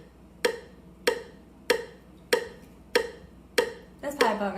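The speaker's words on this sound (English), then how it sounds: "So what we want to do is we set a metronome" Metronome ticking steadily at 96 beats per minute, seven evenly spaced sharp clicks at moderate volume over quiet room tone, with a brief clatter at the end.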